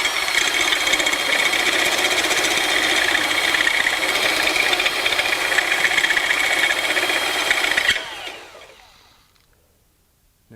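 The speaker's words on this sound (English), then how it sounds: "So it's walking through this 1/4 inch rather easily." A step reamer in a drill cutting through 1/4 inch steel, a loud steady grinding whir for about eight seconds that then cuts off and winds down to near silence.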